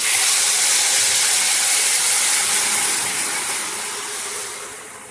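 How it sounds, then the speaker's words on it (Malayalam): Cooked bottle gourd hits hot tempering with a loud, bright sizzling hiss that gradually softens and fades over a few seconds. "ഇതിലേക്ക് ഞാൻ ഈ വെന്ത ലോക്കി ഒഴിക്കുകയാണ്"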